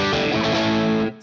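A James Tyler JTG MK1 electric guitar on its second pickup position gives a single strummed chord, bright and sustained with a chorus-like shimmer, ringing loud for about a second before being cut short.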